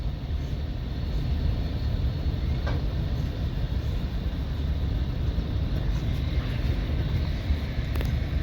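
Freight train running empty coal cars through a rail yard, a continuous low rumbling roar of rolling wagons, steady and fairly loud, with faint squeals and clanks above it.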